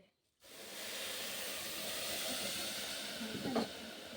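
Water poured into a hot biryani pot sets off a loud, continuous steam hiss. It begins abruptly after a moment of silence and holds steady, with a short bubbling burst near the end.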